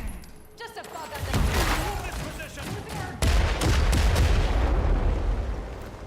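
Battle in the sci-fi action RPG The Expanse: Osiris Reborn: rolling bursts of gunfire and booming explosions crowd together in dense, loud volleys, with a sharp new barrage landing midway.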